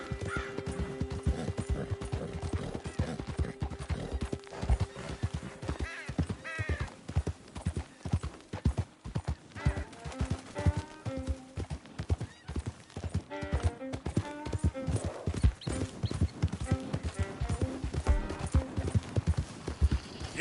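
A horse gallops in Red Dead Redemption 2, its hooves pounding in a fast, continuous clip-clop rhythm, with occasional snorts and whinnies and bits of game dialogue over the top.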